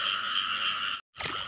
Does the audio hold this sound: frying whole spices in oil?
no